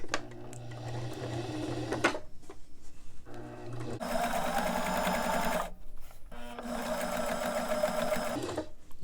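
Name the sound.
sewing machine stitching dress pocket seam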